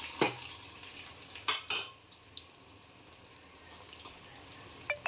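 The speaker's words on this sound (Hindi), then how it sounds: "तो अभी इसमें डाल दूँगी प्याज।" Onions dropped into hot oil in a pan for a green chilli keema, a few clattering utensil knocks and scrapes over a quiet steady sizzle, with no talking.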